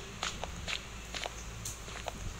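Footsteps in the horror video game The Mimic, a handful of soft, evenly spaced steps over a steady background hum, fairly quiet and with no talking.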